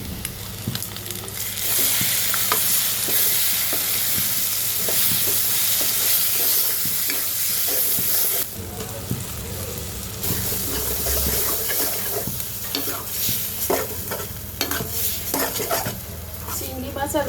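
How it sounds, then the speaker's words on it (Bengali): Taro greens with shrimp, garlic and cumin sizzle and fry loudly in a pan, with steady stirring, scraping and clattering of a spoon against the cookware throughout. "তো এখন আমি এর মধ্যে কচু শাকটা দিয়ে দিব।"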